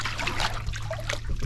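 Water trickles and dribbles steadily into a pet's water dish as it fills, a close, moderately quiet running stream with slight splashy variation.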